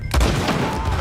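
Gunfire in Red Dead Redemption 2, a loud close burst of shots rolling into a sustained booming rumble, alone without talk.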